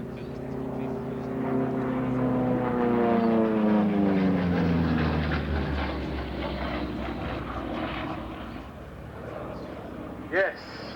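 A large propeller warplane known as the Juggernaut flies over the Duxford air show, its loud droning engine sweeping downward in pitch as it passes and fades, with a brief sharp sound near the end.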